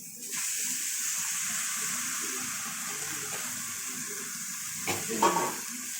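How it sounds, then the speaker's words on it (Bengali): Banana flower fries in a pan of spiced masala, giving a steady, close sizzle with a brief clatter of stirring near the end. No one speaks. "মশলা কষানো হয়ে গেছে, এবার আমি মোচাটা দিয়ে দেবো।"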